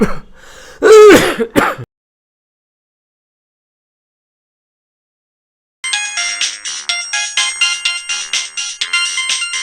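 A throat clear and a short vocal burst, then silence, then a mobile phone ringtone starts, repeating its bright electronic melody steadily and loudly.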